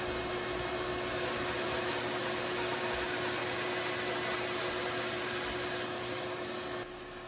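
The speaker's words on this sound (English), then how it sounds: "Here I'm using my bandsaw." A bandsaw runs loud and steady while cutting through a wooden block, a dense continuous whine and rasp that holds for several seconds before dropping slightly at the end.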